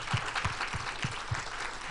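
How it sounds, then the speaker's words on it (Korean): A church lecture audience claps in a short, fairly even rhythm, distinct strokes about every quarter second at moderate, slightly distant level. "두 번째, 박수 한번 쳐봐요."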